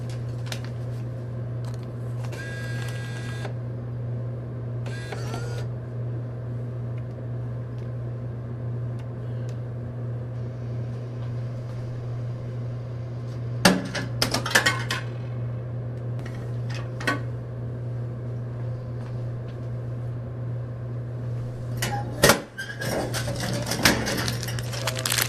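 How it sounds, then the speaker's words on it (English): Soda and candy vending machines hum steadily at low pitch, with intermittent clunks, rattles and short mechanical bursts nearby, no voices. "I went over to the soda and candy machines."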